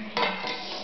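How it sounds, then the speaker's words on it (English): A spoon stirs a pot of stew, making a short, close scraping swish against the pot with a faint metallic edge. No one talks. "And we need to stir it."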